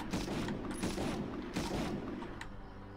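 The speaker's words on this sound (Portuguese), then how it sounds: "Um tiro, Chubby." Gunfire from the PlayStation 1 shooter Medal of Honor, with bursts of rapid shots and booming reports in quick succession, loud and close, with no talk over them.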